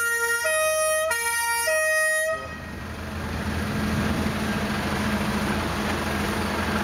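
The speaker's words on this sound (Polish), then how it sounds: "była ta informacja ze straży pożarnej w postaci tej syreny" A fire brigade siren at a village harvest festival sounds loud and steady with a shifting pitch for about two seconds, then cuts off into broad outdoor noise.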